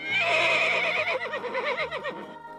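A horse neighs loudly and close by, a long whinny that breaks into a shaky, fluttering descending call before fading.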